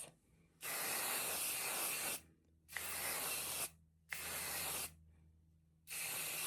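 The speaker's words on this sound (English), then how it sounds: "You just spray the whole hair like this." A spray bottle of hair product releases four long hissing bursts, each lasting about a second or more, with short quiet pauses between them, close and loud.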